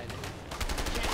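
Rapid gunfire rattles in a burst in the video game A Way Out. It is dense and continuous, sounds like automatic weapons and is louder in the second half.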